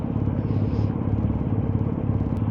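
A BMW R1250GS motorcycle engine rumbles steadily throughout, a continuous low drone of riding with wind noise, no pauses.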